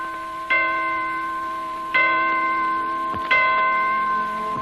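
Clocks in Detroit chime four o'clock, sounding three clear, resonant bell strokes at steady intervals, each ringing out and slowly decaying into the next.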